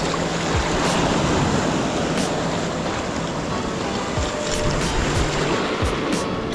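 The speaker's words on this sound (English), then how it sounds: "Waves are coming at me from like 3 different directions" Ocean surf breaking and churning all around after Hurricane Idalia at Pass-a-Grille, a continuous loud roar of foamy waves with no voices.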